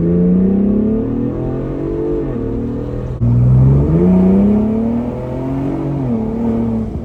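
A loud Ford Bronco engine, hard top removed, revs up and down repeatedly, pitch rising and falling in waves, close and unbroken for several seconds.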